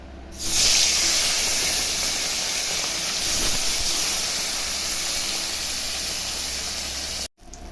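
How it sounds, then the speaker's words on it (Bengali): Bata fish fry in hot oil in a kadai, giving a loud, steady, close hiss that starts abruptly and holds throughout before cutting off briefly near the end. "মাছগুলো এখন ভেজে নিচ্ছি।"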